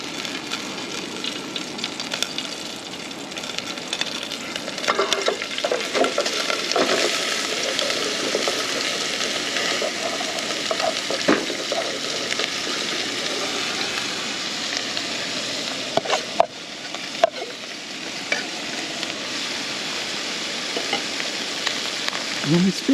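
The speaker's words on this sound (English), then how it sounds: "now we're just going to add a little bit more oil to the pan, and then we'll just stir fry up our veggies" Vegetables including broccoli and jalapeño stir-frying in oil over high heat in a pan, a loud, steady sizzle and crackle with intermittent clatters of stirring and tossing, close and continuous throughout.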